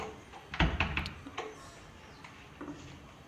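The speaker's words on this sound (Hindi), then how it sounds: "और ये दरवाज़ा बंद हो गया।" A door lock being shut with a key in an indoor lock-opening demonstration: a sharp metallic clack followed by a few lighter clicks and rattles, fairly close and quiet, with no talking.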